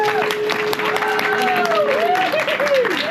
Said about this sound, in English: please give me one round of applause for Chris for hosting this